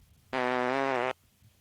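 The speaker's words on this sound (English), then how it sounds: "classic fart and belch there. Yeah. That's right. That's the fart and belch combo." A comedic fart and belch sound effect: a single loud, buzzy, tonal blast lasting under a second, standing alone against near silence.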